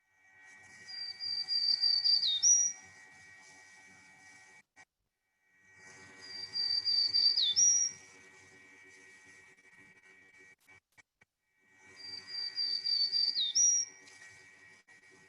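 A small woodland warbler sings three buzzy, high, thin phrases, each a couple of seconds long and ending in an upswept note, separated by pauses, fairly faint over a steady low hum.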